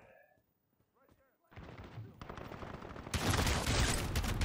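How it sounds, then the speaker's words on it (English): Rapid gunfire in Call of Duty: Modern Warfare (2019) multiplayer erupts after a quiet start and grows denser and louder, with a voice heard briefly early on. "But I hear so much gunfire and death."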